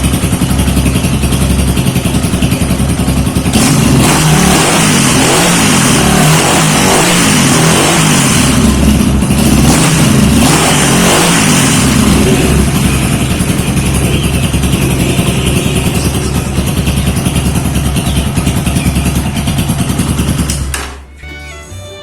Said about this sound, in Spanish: vamos a proceder a encender el motor. Encendió inmediatamente.